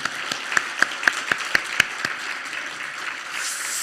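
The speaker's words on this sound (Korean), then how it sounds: "우리 아쉬우니까 장려상 탄 친구들까지 박수도 다시 한번 내줄까요?" Congregation at a Sunday church worship service claps for award-winning children: a few sharp, evenly spaced rhythmic claps ring out over a bed of general applause that continues afterward.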